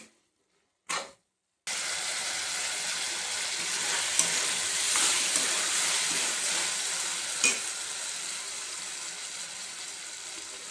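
Egg curry with salt and turmeric being stirred in a hot pan: after a brief near-silent start, a continuous close sizzle runs steadily with occasional scraping accents.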